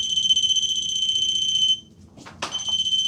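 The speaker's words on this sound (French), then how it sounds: "il y a toujours 2 bips de calibrage." An electronic detector calibrating inside an abandoned hotel gives a steady high-pitched beep that cuts out, a brief click or knock, then the shrill tone resumes, loud and near.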